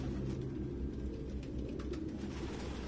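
Pigeons coo softly in Detroit: Become Human, low murmuring calls over a steady ambient hum, with no talking.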